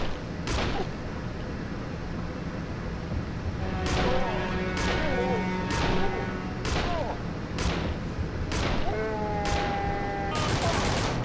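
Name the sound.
gunfire from Urban Chaos Riot Response video game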